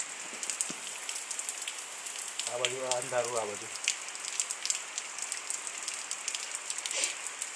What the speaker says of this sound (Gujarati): આ બાજુ વરસાદ ચાલુ છે